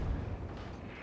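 Naval gun barrages from a Cleveland cruiser in the World of Warships game, a short, heavy, rumbling low boom that fades over about a second, fairly faint and alone.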